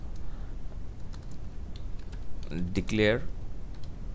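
Keys are tapped on a computer keyboard in a short quick burst, fairly faint, while a man explains the basics of the R programming language.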